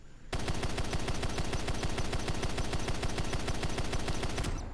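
An MH-47N Chinook helicopter fires its guns in the naval combat game Modern Warships, a loud, sustained rapid-fire burst that starts abruptly and hammers on without pause for several seconds.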